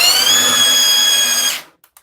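A Mellif brushless sander whines at high speed with a steady, bright motor tone, then cuts off abruptly and spins down, leaving a few faint clicks.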